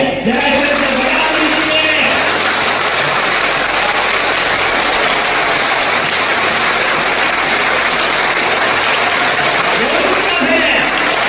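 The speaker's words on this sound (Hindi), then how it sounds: "21 बार तक आपकी ये तालियां बजनी चाहिए।" A large audience at a Hindu festival gathering claps continuously, a dense, loud wash of applause sustained for the whole stretch with no pauses.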